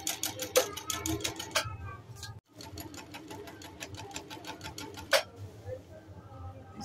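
A Janome L373 sewing machine sews a three-step zigzag stitch, making rapid, evenly spaced mechanical ticks in two close bursts with a short pause between them, under a faint voice.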